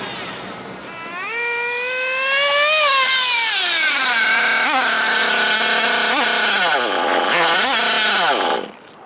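A nitro-fuelled RC car engine screams at close range, its high-pitched whine climbing and falling through a series of sharp throttle blips before cutting out abruptly at the end.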